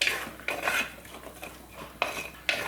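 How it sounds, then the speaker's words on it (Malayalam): A spoon stirs shallots in hot coconut oil in a pan for a Kerala-style fish curry, with scraping strokes and sharp metallic clinks against the pan at irregular intervals, close and clear. "ഒന്ന് ഇളക്കി കൊടുക്കാം."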